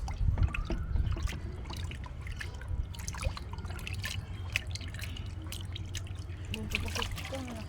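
Water dripping and trickling while a white pigeon is bathed: scattered close drips and small splashes over a low, steady background, with people talking at times.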